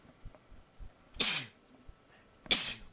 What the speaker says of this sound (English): I'm about to sneeze.